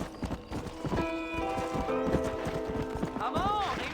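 Horse hooves clip-clop in a steady trotting rhythm in the Western video game Red Dead Redemption, under a voice and a sustained musical tone, with a brief whinny near the end.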